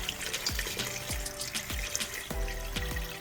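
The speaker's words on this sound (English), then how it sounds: "Let me put some water in there." Tap water running into a pot holding Jamaican cow foot with butter beans, a steady splashing fill with low thuds and sloshes as the level rises, close and fairly loud without any voices.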